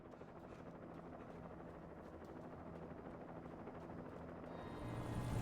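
A steady low whirring rumble of helicopter rotors in the video game Alan Wake drones throughout, growing slightly louder toward the end.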